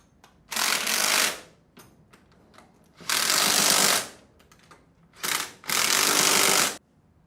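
A power tool tightens bolts on a Sandpiper HD20F diaphragm pump in three loud, sustained bursts of buzzing, each one to two seconds long, with quiet gaps and faint clicks between them.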